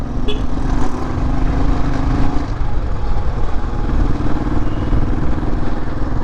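A Royal Enfield Bullet motorcycle engine runs loud and close in Mysuru, a steady low thumping idle with mechanical clatter throughout, no talk over it.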